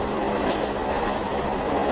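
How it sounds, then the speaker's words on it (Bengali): A train rumbles steadily along with a continuous broadband roar and faint rhythmic wheel noise, loud and close, without a clear stop. "ঠিক তখনই ট্রেনটা কোনো একটা স্টেশনে থামলো।"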